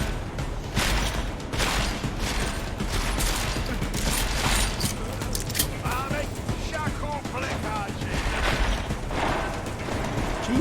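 Police gunfire in the video game Deus Ex: Mankind Divided: dense bursts of shots and mechanical clatter run continuously through a loud, busy game mix, with a voice talking over parts of it.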